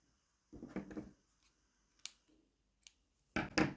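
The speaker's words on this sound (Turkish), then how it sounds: "Bir tane zincir çekip yeşil ipimi biraz uzun olacak şekilde kesiyoruz." Scissors cutting green crochet yarn, a few quiet snips and clicks spaced apart, close and alone.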